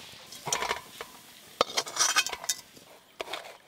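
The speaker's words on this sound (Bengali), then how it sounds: "এইভাবে একটু ভালো করে চাড়িয়ে দিই, তাড়াতাড়ি ঠান্ডা হয়ে যাবে" A spoon scrapes and clinks through a potato and semolina filling in a pan, stirred to cool it, in a few irregular bursts of metallic scraping, close and moderately loud with no talk.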